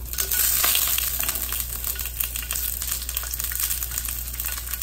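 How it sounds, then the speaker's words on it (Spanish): Onion frying in hot oil in a pot, a steady close sizzle with faint stirring scrapes, continuous and fairly loud with no voices. "Ponemos a calentar una cacerola y ahí vamos a agregarle aceite"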